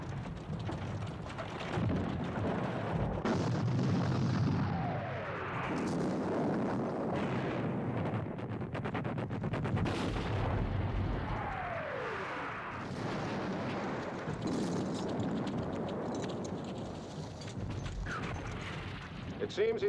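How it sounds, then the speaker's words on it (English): Heavy artillery booms in a battle scene from the 1970 film Waterloo, with repeated cannon blasts mixed with clattering horse hooves, rumbling battlefield noise and voices throughout. "Now's the time to move all the heavy artillery against Picton."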